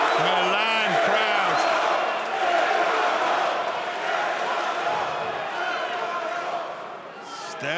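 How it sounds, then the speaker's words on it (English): A Milan crowd roars at a Bellator MMA fight in Italy, a loud sustained wall of cheering and whistling from the arena that swells and fades slightly, with a commentator's voice briefly on top at the start. "listen for a moment to this Milan crowd"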